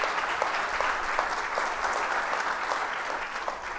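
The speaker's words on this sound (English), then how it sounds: "Please give a round of applause for everybody's many volunteer hours." An audience at a downtown partnership's annual meeting claps in sustained, dense applause, many hands at once, steady throughout with no voices.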